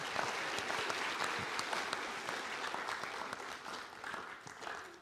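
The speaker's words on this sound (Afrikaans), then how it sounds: "Geef vir hulle hande klap asseblief." Churchgoers applaud at a carol service, a steady wash of many hands clapping that holds for several seconds and eases slightly toward the end, with no voices.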